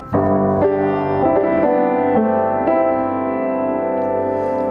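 Piano plays the melody of a song over sustained chords, several notes struck in succession and ringing together into a full, blended sound, with no talking.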